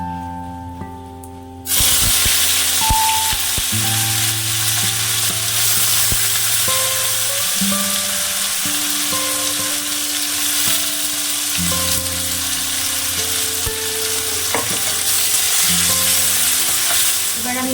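Chopped onion with cardamom and whole cumin dropped into hot oil for a rajma dish sets off a sudden, loud, steady sizzle that continues throughout, with faint clinks and scrapes from stirring.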